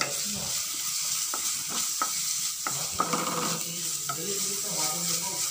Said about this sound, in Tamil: இப்போ வெங்காயம் சேர்த்துக்கலாம்.